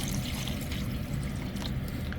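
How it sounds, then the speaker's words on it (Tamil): Water is poured into a pot of crab soup with onion, a continuous close splashing trickle of liquid running steadily without pause, with no one speaking. "இப்போ இதுக்குள்ளே வந்து நாங்கள் தண்ணி சேர்க்க போகிறோமே"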